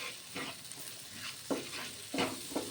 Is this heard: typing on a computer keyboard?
no